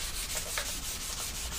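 A flat sanding pad rubs steadily across a painted panel, giving a continuous close scratchy hiss with slight back-and-forth swells and no talking.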